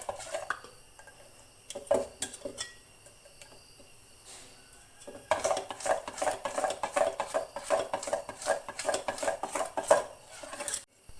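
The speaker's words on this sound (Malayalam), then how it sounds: "നല്ല കട്ടിയായ മാവാക്കി കുറച്ച് സമയം നല്ലപോലെ ഇങ്ങനെ ഇളക്കി കൊടുക്കണം" Thick rice-flour batter for sweet neyyappam, made with jaggery, being stirred in a bowl: a spoon knocks and scrapes against the bowl, sparse at first, then a quick, steady run of close, rhythmic strokes.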